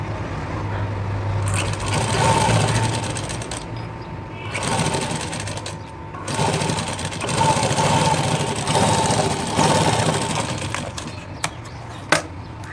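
A sewing machine stitches a shoulder and sleeve seam in a garment, running in steady mechanical bursts with brief pauses between runs and a couple of small clicks near the end.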